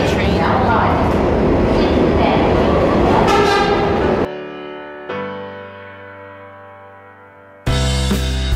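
Loud rumbling train noise that suddenly cuts to a sustained electronic tone sliding downward, then the rushing rail roar returns abruptly.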